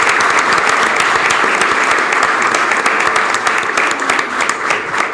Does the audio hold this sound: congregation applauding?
yes